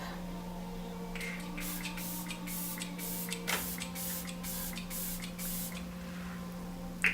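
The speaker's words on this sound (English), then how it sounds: "This is the Glow Recipe Watermelon Glow Ultrafine Mist." Several short hissing bursts of an ultrafine mist setting spray, Glow Recipe Watermelon Glow, fired in quick succession over a steady low hum; close and fairly soft, with no talking.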